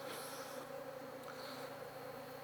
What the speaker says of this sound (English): we'll just shake the bees off onto the top bars